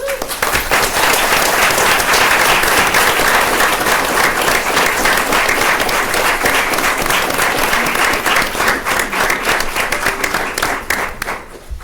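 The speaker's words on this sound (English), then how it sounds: "Give her one more round of applause" A crowd at a city council meeting gives a sustained round of applause for Myra Enriquez Cano, loud and dense clapping that holds steady for about twelve seconds and thins slightly toward the end.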